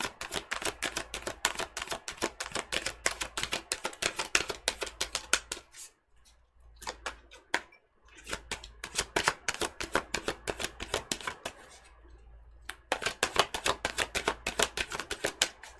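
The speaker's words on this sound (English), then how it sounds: "This might be a long shuffle." Rapid, crisp riffling of tarot cards being shuffled over and over, a dense run of papery snaps with two brief pauses, close and fairly quiet.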